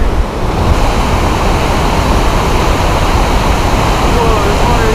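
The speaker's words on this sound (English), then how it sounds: "can actually see over the waterfall" A waterfall rushes in a dense, steady roar of falling water, loud and close, continuing without a break or any talking.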